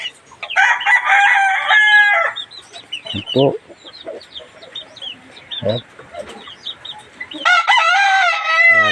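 Close, loud caged hens in a battery cage clucking and squawking in bursts, with a rooster crowing near the end and a brief voice speaking in between.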